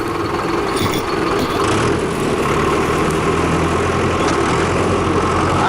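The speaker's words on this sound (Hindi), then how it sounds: "आज ट्रैक्टर की सवारी हो रही है" A tractor engine runs steadily in a farm field, a loud continuous low rumble with a droning idle throughout and no speech.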